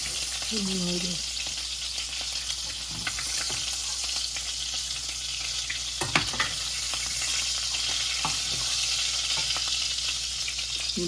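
Meatballs fry in a pan with a steady, loud sizzle running throughout, broken by a few brief scrapes and clinks as they are stirred and turned.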